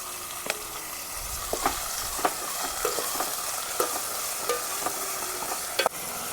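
Tomatoes sizzling in a frying pan for a village-style tomato soup and rice meal, a soft steady sizzle with regular light clicks from stirring, fairly quiet.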